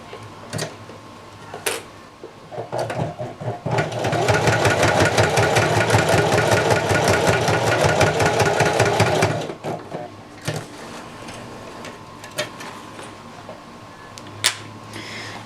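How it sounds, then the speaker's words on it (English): A sewing machine stitches back and forth across a vest panel in one loud, rapid, steady run of about five seconds, framed by quiet handling clicks before and after. "I'm going to sew back and forth a couple times."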